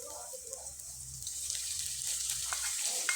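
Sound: stirring boiled vegetables frying with onion, garlic and ginger

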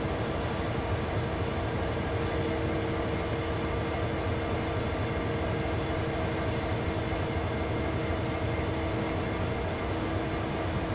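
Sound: train running in the video game Train Sim World 3

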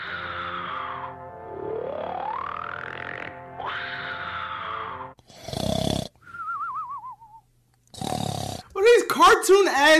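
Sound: cartoon snoring sound effect

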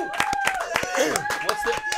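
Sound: control room applause

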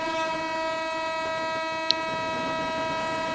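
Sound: first train departing Moynapur station

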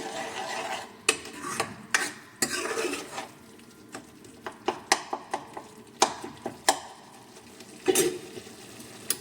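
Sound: stirring and roasting the palak paneer mixture in a pan

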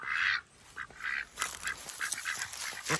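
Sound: ducks quacking

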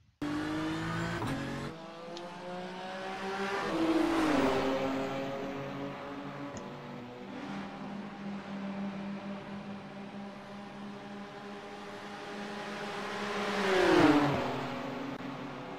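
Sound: race cars overtaking at the Bathurst 12 Hours

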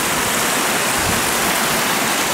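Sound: white water rushing into micro hydro intake

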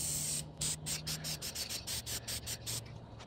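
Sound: rattle can spray painting a 1998 Jeep Grand Cherokee

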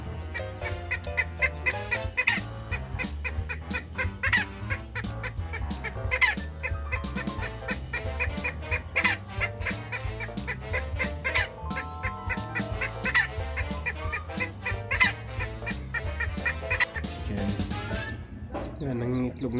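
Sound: serama chicken clucking

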